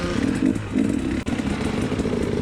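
An off-road motorcycle in a desert racing event revs hard and steadily with a buzzing, raspy engine note, loud and close, with a brief dip in the middle and no voices.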